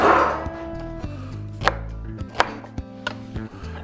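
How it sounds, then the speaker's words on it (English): A knife chops small red onions into chunks on a board, giving a series of sharp, close, irregular chops with no talking. "I'm just cutting these little beautiful red onions into these little chunks"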